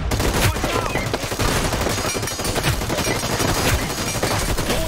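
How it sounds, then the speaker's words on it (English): Rapid gunfire from shotguns and other weapons in the video game The Finals during a Lethal Melee event, with loud repeated blasts layered over constant game noise and music throughout. "he ate so many shotgun shots"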